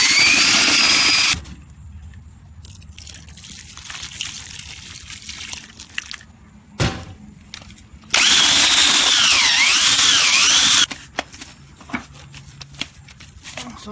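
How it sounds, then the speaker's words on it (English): A power drill whirs loudly in two bursts, first briefly and then for a few seconds, with wet stirring and scraping of a mixing paddle in a bucket of mix for a DIY reef tank rock background in between. "And I got a paddle on a drill to mix it"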